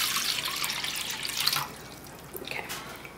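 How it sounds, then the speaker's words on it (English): Cold water being poured from a measuring cup into chocolate cupcake batter in a mixing bowl, a steady close splashing and trickling stream that thins out partway through. "the first thing we're going to add is the 2 cups of water"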